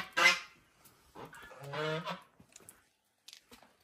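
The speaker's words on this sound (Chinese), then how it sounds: "还有两只大鹅呀" Two geese at a wooden farmhouse in a rural Xiangxi village in Hunan give a couple of loud, nasal honks, close by, separated by short quiet gaps.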